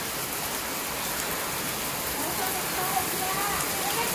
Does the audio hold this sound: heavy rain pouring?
yes